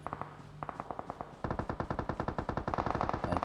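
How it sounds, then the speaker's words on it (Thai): Rapid bursts of automatic gunfire in the video game PUBG, close and loud, with a brief pause before a long sustained volley of evenly spaced shots. "ไปกันเสียงปืนใกล้ๆแถวนี้แหละ"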